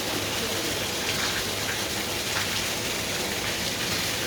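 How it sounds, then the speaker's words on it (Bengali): Heavy rain pours down steadily on a flooded area at home, a dense continuous hiss and patter that stays loud and even throughout, with no voices over it. "ও দেখেন বৃষ্টি হইতেছে"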